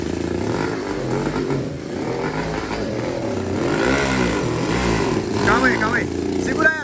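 A motorcycle engine starved of fuel revs unevenly and sputters up and down nearby, with voices talking over it.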